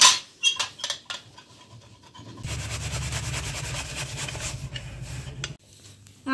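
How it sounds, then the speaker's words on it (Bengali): Cheese being grated for stuffed bajra (foxtail millet) cutlets in a home kitchen, a steady close rasping scrape that runs for about three seconds after a few scattered clicks and taps. "ফার্স্ট চিজটাকে আমি গ্রেট করে নিচ্ছি।"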